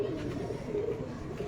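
A white golden pigeon cooing softly on a rooftop loft, a low repeated throaty coo heard faintly against quiet background.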